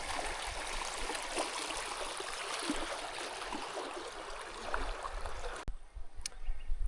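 The Fish River flows upstream of the Hazelgrove Road bridge, a steady broad rushing of water close at hand that runs unbroken before cutting off into quieter handling noises.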